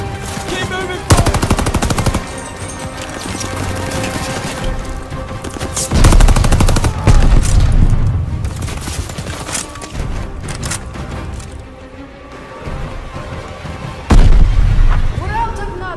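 Automatic and single gunfire in the Call of Duty: Vanguard video game, loud sustained bursts and booming shots throughout, with shouted soldier voices over the battle.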